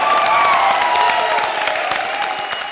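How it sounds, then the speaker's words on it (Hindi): Studio audience applause and cheering on a Hindi comedy stage show, a dense, steady wash of clapping that holds loud throughout and eases slightly toward the end. "तालियां।"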